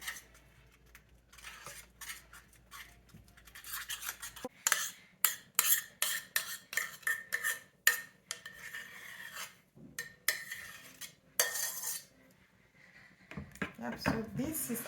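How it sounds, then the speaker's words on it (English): A spoon scrapes and stirs in a bowl of date and almond custard made with soybean powder and milk, in quick irregular rasps and clinks with brief pauses. "So I'll keep stirring and adding the milk until I see that I get the consistency that I want"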